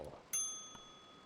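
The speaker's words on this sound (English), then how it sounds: "let's ring the bell" A bright bell in the video game Kentucky Route Zero gives one sharp ring that decays slowly, with a fainter second tap partway through the ringing tail.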